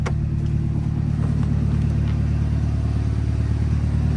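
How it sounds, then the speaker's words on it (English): A 2003 Honda S2000 engine revs steadily through its exhaust, a loud, close, continuous drone with strong low harmonics held across the whole stretch, no voices. "while I'm revving it for you to hear how cool it sounds coming out of that exhaust"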